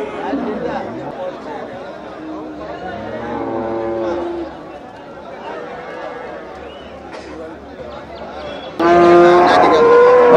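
Native cattle low and moo amid the crowd chatter of the Melapalayam cattle market, several drawn-out calls near and far under constant talk, with a louder burst of noise near the end.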